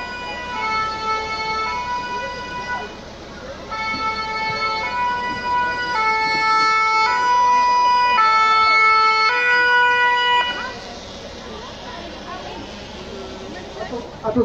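An ambulance siren wails in repeated two-tone cycles as it drives past at a fire station open day, loud and close before cutting off, with people talking around it.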